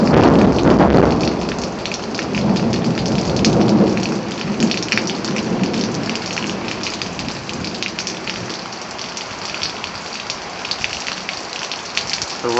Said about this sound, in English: The rain's really picking up now.